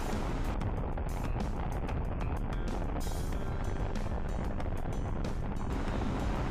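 Steady roar of a Bajaj Dominar 400 motorcycle fitted with a windshield at high speed, its engine drone blended with heavy wind buffeting, continuous and close, with no talking.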